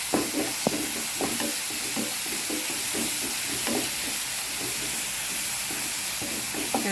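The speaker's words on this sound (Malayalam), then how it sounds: "നല്ലോണം ചൂടായി നമുക്ക് അതിൻ്റെ ഉള്ളിയൊക്കെ ഇട്ട് കൊടുക്കാം കേട്ടോ. നല്ലോണം ഇളക്കുക." Onions sizzling in hot oil in a pan while being stirred, with a constant hissing fry under a loose series of spatula scrapes and light knocks against the pan, close and moderately quiet, without speech.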